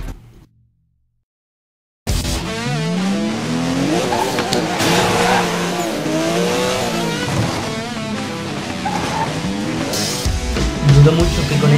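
After two seconds of near silence, a car in the Need for Speed Most Wanted video game on PC roars in loud and close, its engine revving up and down with tire squeals, while a voice talks over it.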